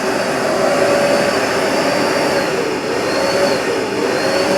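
A Hoover Smartwash Pet XL carpet cleaner runs on a rug with a steady, loud motor whine and suction roar that holds evenly from start to finish.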